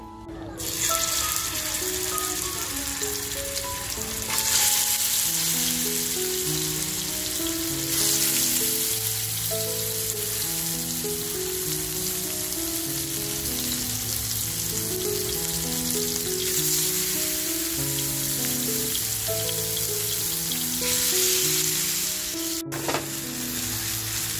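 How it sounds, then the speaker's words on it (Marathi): Kingfish (surmai) strips coated in masala fry in a pan, giving a steady, close sizzle that runs the whole time beneath melodic background music. "आता हे आपण फ्राय करायला घेऊया"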